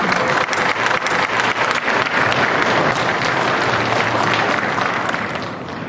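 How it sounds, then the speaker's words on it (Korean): A loud, dense burst of audience applause fills a hall at a Korea Gas Safety Corporation safety-culture award presentation, many hands clapping continuously and gradually easing off toward the end. "큰 박수로 맞아주시기 바랍니다"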